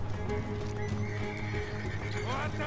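In the video game Red Dead Redemption 2, a horse whinnies loudly near the end, over steady clip-clopping hooves and a layered in-game soundscape throughout.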